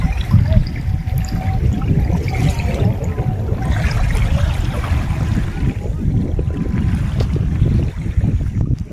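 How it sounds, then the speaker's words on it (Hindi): Clear water rushes and gurgles outdoors at the DVC dam near Koderma, a steady, fairly loud flow with some wind noise over it. "कलकल पानी, एकदम साफ पानी ये डीवीसी का है।"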